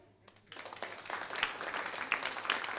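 A comedy club audience in Berlin breaks into clapping after a short quiet pause, the scattered hand claps building into moderate, fairly close applause that continues to the end.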